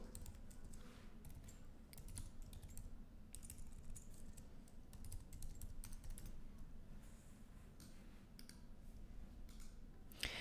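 Rapid, irregular clicking of a computer keyboard being typed on at a desk while coding a web page, steady keystrokes running throughout at moderate closeness over a low background hum, with no talking.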